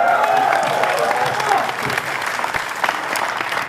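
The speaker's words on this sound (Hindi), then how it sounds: "जोरदार ताली।" An audience at a comedy roast show breaks into loud, sustained applause with some crowd noise, fading slightly toward the end.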